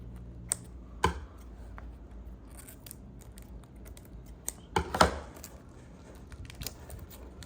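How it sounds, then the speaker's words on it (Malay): Scissors cut into the packaging of a NECA Batarang replica toy from Batman Arkham Knight, giving a few sharp snips and clicks scattered over a quiet room. "Pakai gunting cantik sikit."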